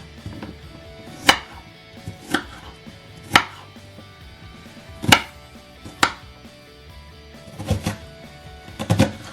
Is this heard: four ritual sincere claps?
no